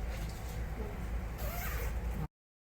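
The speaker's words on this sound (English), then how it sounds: "now you can open the zip." A zipper on a protective surgical gown is pulled open in an operating theatre, a continuous close rasping slide lasting about two seconds before cutting off.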